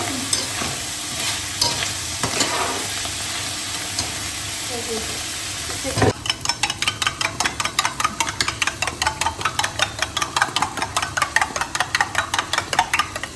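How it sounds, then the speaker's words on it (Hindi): Mushrooms frying in a hot pan: a steady sizzle and hiss at first, then from midway a rapid, regular scraping of a utensil stirring them, loud and close, with no talk over it. "देखा हमारे मशरूम तो तड़क तड़क से खप गए हैं"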